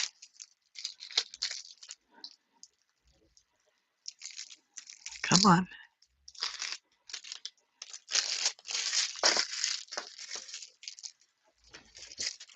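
Plastic wrapping being torn and crinkled off a new tarot card deck, in bursts of sharp ripping and crackling with pauses, close by, with a voice briefly heard.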